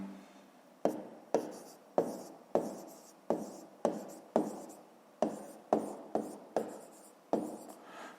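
A pen writes numbers by hand for a school math exercise, producing a regular series of about fifteen short scratchy strokes, each starting sharply and trailing off, close and fairly quiet with no talking.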